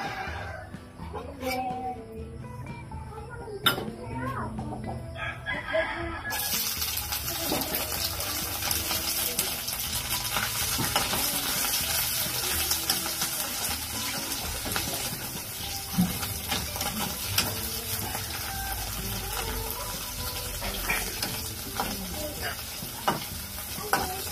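Dried salted fish (tuyo) frying in hot oil in a pan, a dense continuous sizzle and crackle with occasional stirring clatter, loud and close throughout after a brief quieter start.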